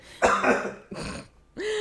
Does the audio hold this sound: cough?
yes